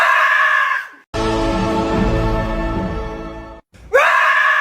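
A person does a loud, harsh, roaring dinosaur imitation, a sustained rasping scream lasting about two and a half seconds between bursts of louder talk.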